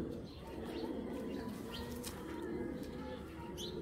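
Racing pigeons of a foreign bloodline coo softly at close range in a loft, with faint chirps and brief wing rustles over a steady low murmur.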